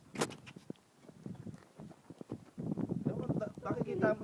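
Horse hooves clip-clop faintly in a short irregular run of knocks, growing busier toward the end, under people chatting nearby.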